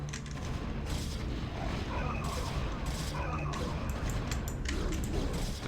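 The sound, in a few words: cannons firing in StarCraft video game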